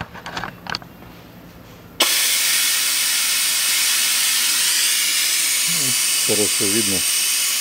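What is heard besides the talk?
vacuum extractor pumping out CVT fluid, Nissan Qashqai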